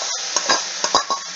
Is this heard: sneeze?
no